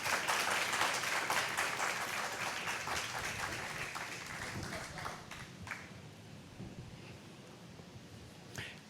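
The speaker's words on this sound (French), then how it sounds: "on les applaudit chaudement" An audience warmly applauds contestants joining the stage at a quiz show in Pétion-Ville, a broad wash of clapping that slowly fades over several seconds, ending in a few scattered claps.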